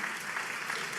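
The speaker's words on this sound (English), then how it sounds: "Give yourselves a round of applause just for being" Steady applause from an audience in a large room at an affordable housing event in Atlanta, a dense continuous clatter of clapping hands with no break.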